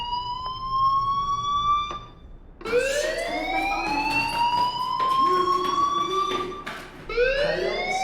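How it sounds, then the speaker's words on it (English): A wailing electronic fire alarm inside the video game Life is Strange, its tone sweeping upward in repeated rising cycles, loud and steady, with a short break near the start before it resumes. "Hey, do you hear that fire alarm?"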